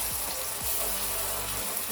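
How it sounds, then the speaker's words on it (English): Blended tomatoes poured into a hot pan over browned vitunguu and spices, a steady wet pouring rush with a soft sizzle, close and continuous with no talk. "Then I'll pour in my blended tomatoes."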